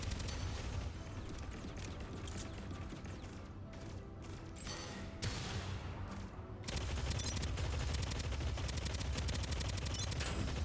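Squad gunfire in a zombie shooter video game, dense rapid bursts of automatic shots that stutter and pause briefly, then resume as heavy continuous fire.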